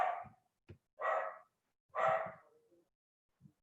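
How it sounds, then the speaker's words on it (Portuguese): Street dogs in a northeastern Brazilian town bark in a few short, sharp bursts, moderately close, with pauses between barks and no talking over them. "Os cachorros da rua estão latindo."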